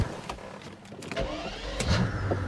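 Mercedes SL600 with a 500-horsepower V12 engine driving and rising in revs, a close rumbling drone that swells and falls with shifting pitch and no speech.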